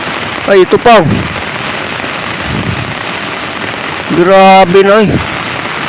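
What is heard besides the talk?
fast-flowing flood water in barangay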